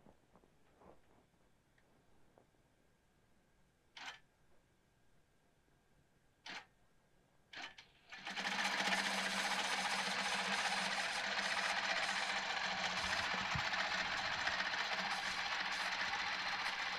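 A longarm quilting machine stitching rows through denim: a few sparse clicks and taps early on, then a loud, continuous mechanical whir that starts abruptly and runs steadily to the end.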